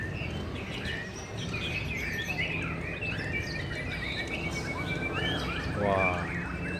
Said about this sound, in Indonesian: Di sini ada kontes murai batu.